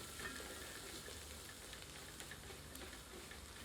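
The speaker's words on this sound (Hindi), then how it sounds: "इसे तोड़कर तेल में 1 से 2 मिनट भूनते हैं।" Masala tikki broken up and frying in oil over low heat makes a faint, steady sizzle with soft crackles and occasional stirring scrapes, heard alone without talk.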